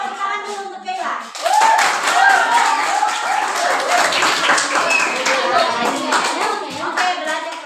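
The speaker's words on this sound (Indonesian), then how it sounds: "Oke, tepuk tangan dulu untuk Keila." Classroom of children clapping for a classmate, a short pause, then a lively burst of hand claps with kids' voices chattering over it, sustained until the end.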